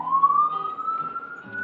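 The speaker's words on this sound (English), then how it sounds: "Okay, ambulance." An ambulance siren wails nearby, a single rising tone that holds loud and steady across the short stretch without any talking.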